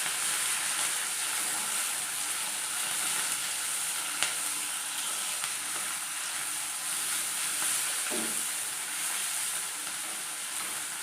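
Onion, tomato and green chilli sauté in a pan for a Kerala-style moru curry, a constant close sizzle broken by a couple of sharp spoon taps and scrapes from stirring, with no talk.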